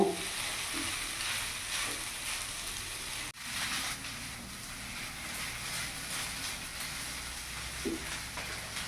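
A cauliflower and boiled potato mixture fries in a pan with a steady, moderate hiss and sizzle, broken once by a soft thud from stirring.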